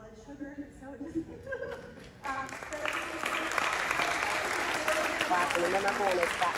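Applause breaks out after a couple of seconds of speech and continues as a dense, steady clatter of many hands clapping, with voices still audible beneath it.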